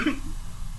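A short, harsh cough from a character caught in tear-gas smoke during a Ready or Not tactical shooter match, one brief burst over a low game rumble.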